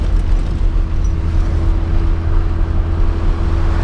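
A carbureted engine of a boxy Volkswagen Gol is held at high revs, a loud, steady, droning roar with a constant hum and no let-up, close to the vehicle.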